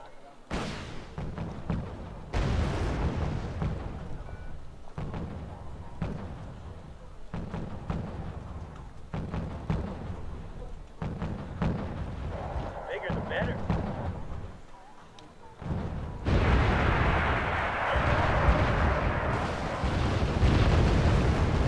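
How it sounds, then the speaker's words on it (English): Machine gun fire in the war strategy game Wargame: Red Dragon, dense bursts of rapid shots and booming impacts rolling on and off, loud and close, with someone talking over parts of it. "What is that machine gun that..."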